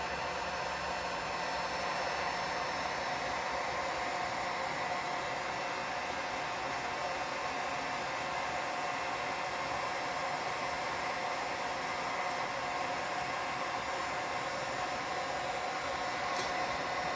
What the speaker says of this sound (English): I'm going to turn on my heat gun and give it a little bit